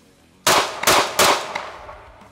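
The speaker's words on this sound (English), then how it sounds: "I'm gonna shoot this pistol from close quarters retention" A Sig P320 AXG Legion pistol with a ported compensator slide, fired at close range from a retention position, lets off three sharp, loud shots in quick succession, and each shot trails into a fading echo.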